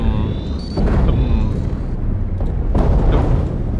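Explosions in the underwater game Dave the Diver, heavy rumbling booms that build and swell over a dense low roar, with a voice talking over parts of it.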